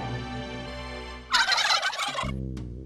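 A turkey gobbles once, a loud rapid rattling burst that stands out over steady background music.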